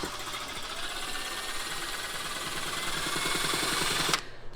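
A power drill fitted with a kitchen whisk whirs steadily as it froths a drink, a loud continuous buzzing motor that runs for about four seconds and then cuts off abruptly, with no talking.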